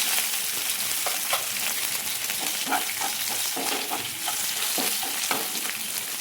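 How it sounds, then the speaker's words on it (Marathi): Cumin, green chili and salt sautéing in a hot pan for a fasting-day tapioca pearl dish, a loud steady sizzle with scraping stirs throughout and no talk. "हे परतून घ्यायचं आहे।"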